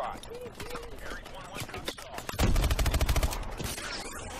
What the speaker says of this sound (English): Team, I see someone shooting me, but I don't know where it is.